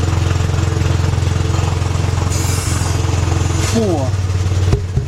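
A 3/8-drive air ratchet with an extension spins briefly, high and whirring, while removing 13mm bolts during a water pump replacement on a Chrysler/Dodge/Jeep vehicle. A steady air compressor drone runs loudly throughout, and a voice counts.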